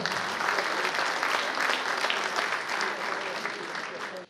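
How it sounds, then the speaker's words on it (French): Audience applause for a senator from the Hérault at a FNACA veterans' congress in Bessan, a dense, steady wash of clapping that holds for about four seconds before easing slightly at the end. "notre sénateur de l'Hérault. On peut l'applaudir bien fort."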